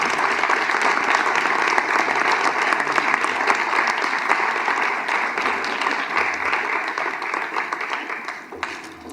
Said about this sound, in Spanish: Un aplauso para los compañeros de Barbastro.